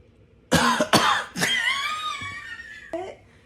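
A man gives a loud, close vocal imitation of a cough: two sharp bursts followed by a drawn-out, wheezing rasp and a short final hack, heard alone without talk.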